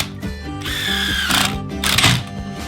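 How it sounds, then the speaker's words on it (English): A power drill drives wood screws into the wooden legs of an outdoor minibar frame, with several whirring bursts of rising pitch and short pauses between them, close and clear. "Then line them up with the bottom frame and attach using glue, then wood screws."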